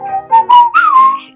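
A person whistles a bright melodic tune in short clear phrases with rising and falling notes, close and loud, with no talking.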